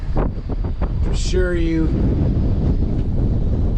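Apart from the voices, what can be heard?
strong wind on a boat, wind noise on microphone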